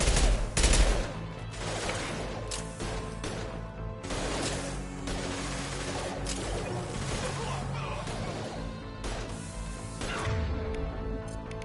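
Gunfire in Mass Effect 2 comes as loud, close bursts of rapid shots, with heavy volleys at the start and again around the middle and end, mixed with impacts and battle clatter, while voices speak briefly.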